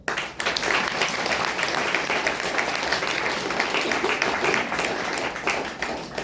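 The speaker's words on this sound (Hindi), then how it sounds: "तो आप एक बार तो अपनी सफलता खातिर जबरदस्त ताली बजाओ" A hall audience at a spiritual talk breaks into vigorous applause after a short pause, a thick sustained wash of clapping that stays strong to the end.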